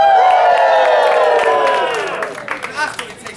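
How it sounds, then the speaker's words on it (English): An audience cheers and whoops at an Epcot Christmas Carol stage show, a loud sustained roar of many voices with scattered claps and shouts that gradually fades. "And the crowd goes wild!"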